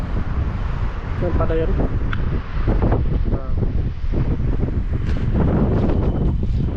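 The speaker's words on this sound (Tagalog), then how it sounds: "Ang lakas ng hangin, no?" Loud, constant wind roaring and buffeting the microphone, with a person talking underneath it.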